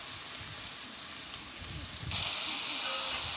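Onion, ginger and garlic sizzle in hot oil with salt, a steady broadband frying hiss that grows louder and brighter partway through, with no talking.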